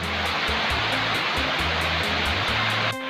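Curug Bojong waterfall near Pangandaran, seen from below with a river at its base, pours in a loud, steady broadband rush that fills the whole stretch without pause.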